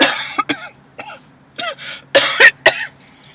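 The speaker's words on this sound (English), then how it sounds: "You can add that cough." Several short, sharp coughs and throat-clearing bursts from a single person, close and fairly loud, spaced irregularly across the moment with brief quiet gaps between them.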